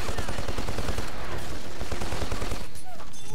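Repeated shotgun blasts from the video game Black on PS2, a dense run of loud close booming shots that cut off near the end, with a voice speaking over the gunfire.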